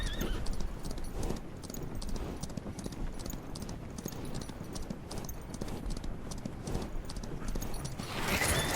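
Horse hooves gallop in a fast, steady clip-clop rhythm in the video game Far Far West, continuous and close, with a synthetic game-like quality and a slight swell near the end.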